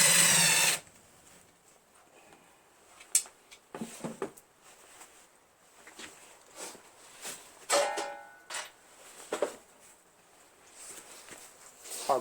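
A power driver backing out the three 5/16 screws holding the air cleaner base on a Briggs & Stratton opposed twin engine, with short whirring bursts separated by handling clatter and quiet gaps.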